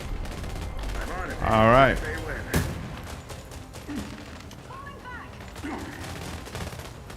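Sniper gunfire in The Expanse: Osiris Reborn, a few sharp, fairly faint shots and bursts heard in the background under shouted combat callouts and a brief spoken remark.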